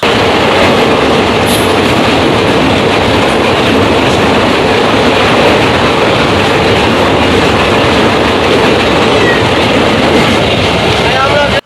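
A train rumbles loudly and steadily nearby, wheels clattering in a dense continuous roar with faint squeals, crossing the Rupsa rail bridge on the Khulna–Mongla line.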